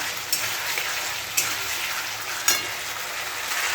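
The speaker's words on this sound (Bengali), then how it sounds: "ভালো করে কষে নিই।" Spiced masala being stir-fried in oil in a pan before fish is added: a steady, dense sizzle with a few sharp clatters of the spoon against the pan, close up, with no voices.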